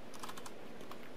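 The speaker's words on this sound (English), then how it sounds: "I type it in here." Quick, light keystrokes on a computer keyboard form a short burst of clicks followed by one more tap, faint under a steady hiss.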